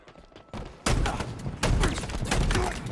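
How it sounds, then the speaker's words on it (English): Shotgun blasts in the video game Halo Infinite, several loud heavy booms in quick succession, each a sharp broadband hit that leaves the next onset layered over the decaying roar. "Three shots of the shotgun,"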